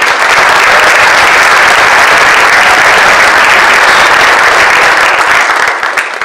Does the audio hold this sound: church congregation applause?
yes